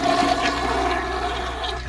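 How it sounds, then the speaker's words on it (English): A toilet flushing in a mall restroom, a loud rushing swirl of water that runs steadily for a couple of seconds, close and alone. "I heard a toilet flush."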